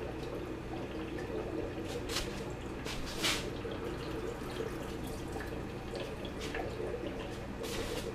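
Running tap water rinsing hatched brine shrimp in a sink, a steady quiet splash with scattered drips and trickles throughout.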